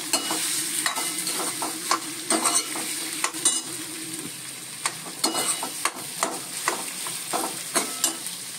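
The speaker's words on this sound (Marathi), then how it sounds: "आता आपण हे फोडणीवर बटाटे चांगले परतून घेऊया." Potatoes stir-fried in oil tempering give a steady close sizzle, with repeated sharp clinks and scrapes of a spoon against the pan throughout.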